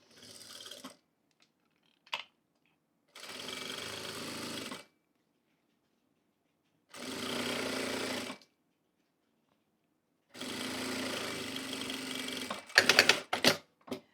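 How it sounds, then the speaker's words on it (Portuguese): Sewing machine stitching a fabric table runner, running a safety seam close to the lace insert divider, in four sustained bursts of whirring separated by silence, ending in a few sharp clicks. "agora eu vou costurar aqui, ó, bem rente a essa minha divisão do entremeio"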